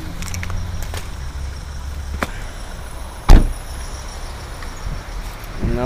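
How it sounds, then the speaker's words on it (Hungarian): A car pulls in and parks right beside someone outdoors in light drizzle: a close engine hum with a brief squeal and a sharp thump midway, then quieter idling. No one speaks. "Na, oda nézd, behagyja autó én mellém."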